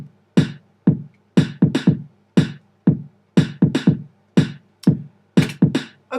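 A programmed kick and snare beat in Logic 9 hits loud and punchy, sharp separate strikes with quick decay falling in an uneven, repeating rhythm and clean silence between hits.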